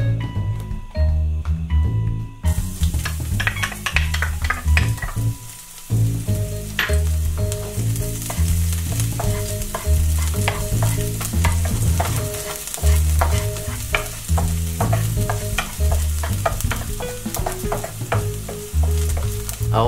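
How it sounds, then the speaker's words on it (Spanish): Olive oil sizzles and fries steadily in a pan on a heated stove, with frequent stirring clatter over the continuous crackle, loud and close throughout without talk. "toma el aceite de oliva y échalo en la sartén"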